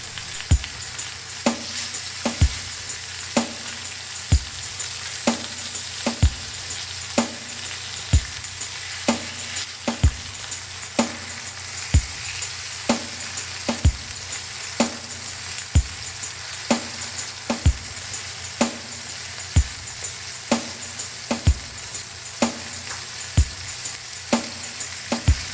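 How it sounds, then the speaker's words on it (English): Pieces of liver and bread frying in oil in a large frying pan, a steady sizzle broken by regular sharp clicks and scrapes about once a second, close and with no talking. "I'm going to use a rather large frying pan so there's room for the liver and the bread."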